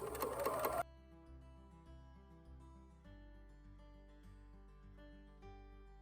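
A sewing machine back-stitches a seam on a hooded romper with a rapid, even mechanical patter close up, its rhythm shifting as the stitching changes direction, quiet and with no voices.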